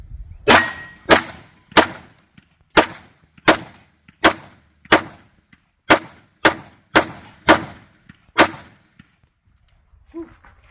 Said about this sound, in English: It just feels better, especially when you're shooting fast like that.